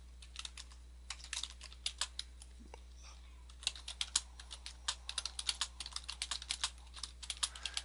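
Computer keyboard typing a short reply in quick irregular bursts of light clicks, close and fairly quiet, with a brief pause partway through.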